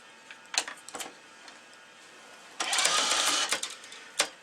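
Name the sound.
racquet stringing machine pulling tension on string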